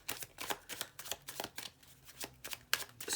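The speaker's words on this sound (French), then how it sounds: "Je reprends une carte." Tarot cards drawn and handled near the microphone, giving soft, irregular papery flicks and slides in quick succession, faint and without talking.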